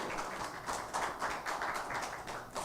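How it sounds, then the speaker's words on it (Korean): Church congregation clapping for the choir at a New Year's Eve service, a steady crowd applause of many hands with rhythmic swells, fairly close and sustained without talk. "은혜를 원천장해 주신 성가대원들에게 감사의 박수하겠습니다."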